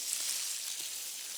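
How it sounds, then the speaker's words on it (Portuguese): Food frying in a pan with a steady, soft, high sizzle at a cooking demonstration, close and even, with no voices. "E vai fritando, vai fazendo essas camadinhas aqui."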